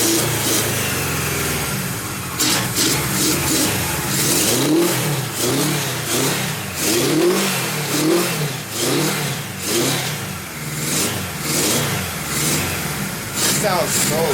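A 1976 Kawasaki KZ motorcycle engine revs up and down repeatedly, loud and close, with a rough idle between the throttle blips.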